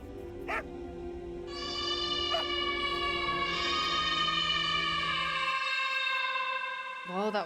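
Dogs in the Enigma of Fear video game whimper and yelp in long, drawn-out whining tones that swell and hold for several seconds, with a couple of short sharp yips, fairly close and alone.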